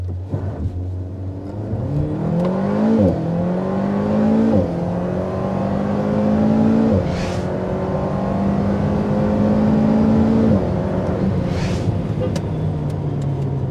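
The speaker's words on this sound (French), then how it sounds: "je vous propose de faire une petite accélération avant de commencer cet essai à bord de l'Alpine A110" An Alpine A110 R sports car accelerates hard in sport mode, heard from inside: a loud engine note climbing through three or four gear changes with brief dips and faint pops between shifts, no talking over it.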